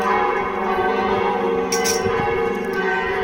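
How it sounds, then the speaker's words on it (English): Church bells in Medjugorje ringing for evening mass, a steady sustained peal heard outdoors at moderate distance over faint ambient noise. "You hear the bells of Medjugorje."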